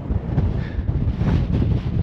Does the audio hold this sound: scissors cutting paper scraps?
no